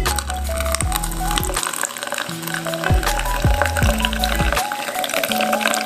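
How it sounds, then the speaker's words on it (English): Orange soda poured into a cup, with a gurgling, rising fill sound in several short bursts and pauses, fairly close. "Now I'm going to pour the soda in the cup"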